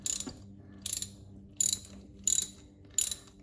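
A ratchet socket tightens a spark plug on a Lamborghini Murcielago or Diablo 6.0 engine, five crisp bursts of rapid clicking in an even rhythm, close and alone.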